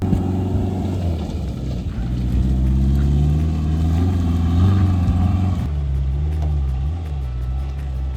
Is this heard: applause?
no